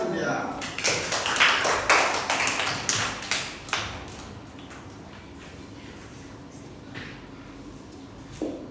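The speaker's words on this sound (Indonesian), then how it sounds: "Tepuk tangan buat Cynthia." Applause for Cynthia in a classroom: a short burst of sparse, uneven hand claps that fades away within a few seconds, then a quiet stretch with a few faint claps later.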